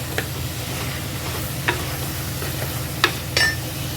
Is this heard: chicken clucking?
no